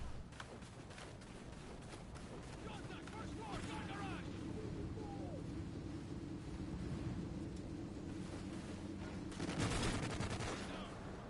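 Gunfire in Call of Duty: Ghosts team deathmatch, a steady rattle of shots over continuous battle ambience with a louder burst near the end, while a player talks over it.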